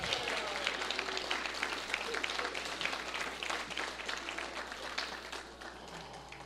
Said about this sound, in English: You get stupendous applause.